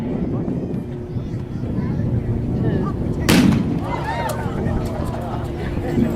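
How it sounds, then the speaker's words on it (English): A single sharp gunshot at a Wild West gunfighter show cracks out near the middle, loud and close. A crowd murmurs and stage chatter runs underneath throughout. "I've wanted to shoot something most of the day. So here we go."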